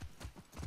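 Horse hooves clip-clop in The Last of Us Part II, a few soft, quick steps in an uneven trotting rhythm, faint and brief with nothing else over them.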